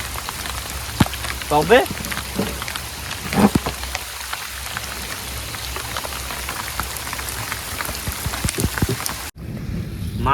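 Rain from a nor'wester storm patters steadily on a fishing boat in the Sundarbans, a dense hiss with scattered louder drops and clunks, while people talk briefly over it.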